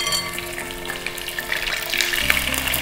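Chicken pieces drop into hot oil in a pan with ginger, garlic, cardamom and curry leaves, giving a steady close sizzle and crackle that swells toward the end, with no voices.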